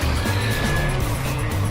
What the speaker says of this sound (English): this is a dump truck.